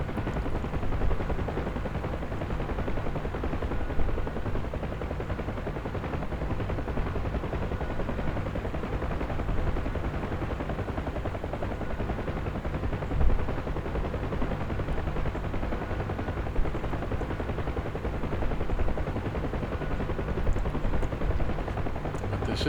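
UH-1 Huey helicopter flying in the video game DCS, a steady loud rotor and turbine drone with rhythmic low beating that continues throughout, with occasional brief bumps.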